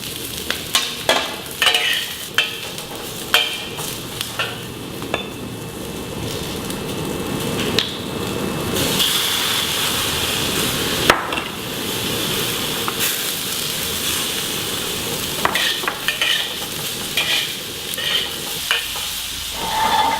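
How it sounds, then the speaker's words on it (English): Ginger, garlic, Brussels sprouts and mini sweet peppers fry in a pan, with a continuous sizzle broken by frequent sharp clacks of stirring and scraping, close and moderately loud throughout. "Give it a little fry, and we're going to immediately add in the Brussels sprouts and the mini sweet peppers."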